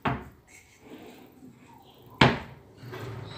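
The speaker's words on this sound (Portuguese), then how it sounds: "Pode ver aí que as gavetas já estão funcionando." Drawers in a newly built four-drawer kitchen cabinet module slide and bump shut, giving two sharp wooden knocks about two seconds apart with quieter rattling between.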